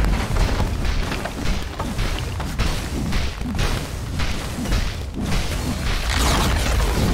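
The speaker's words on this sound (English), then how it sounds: "Radiant's top tower has fallen." A tower in Dota 2 collapses in a dense, sustained rumbling crash of booms and smashing debris. The roar stays loud and continuous, with no speech over it.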